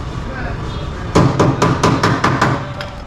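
A hammer drives a pin into a car door hinge, about eight sharp metallic strikes in quick, slightly uneven rhythm, close and loud over a steady background hum.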